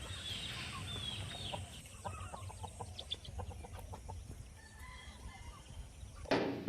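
Calm roosters in a farm setting cluck in short, irregular bursts throughout, with soft repeated calls at moderate distance over steady background noise and a brief louder rustle near the end.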